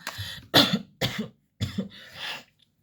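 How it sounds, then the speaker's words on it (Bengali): Four distinct coughs from one person, harsh throat-clearing bursts spaced about half a second apart, close and fairly loud, with silence after the last one. "যদি ভিডিও চলাকালীন কোনো রকম কোনো কাশি হয়"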